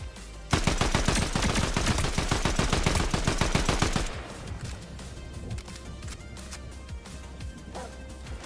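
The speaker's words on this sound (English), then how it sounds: "was that Sprite shooting me?" Rapid automatic gunfire in a Fortnite-style shooter video game, a loud dense burst of close shots for several seconds, then sparser scattered shots and impacts at lower level.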